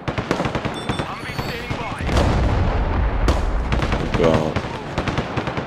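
Artillery fire in the war video game Broken Arrow sounds as heavy, rumbling booms mixed with rapid gunfire, loud and continuous, while a player talks briefly over it.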